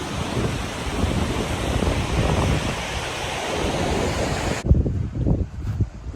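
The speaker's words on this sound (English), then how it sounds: "that wind is just flying straight up the side of the hill" Wind blows hard up a hillside beside a Scottish lake, a loud, rushing roar buffeting the microphone that cuts off abruptly near the end, leaving lighter gusty rumbles.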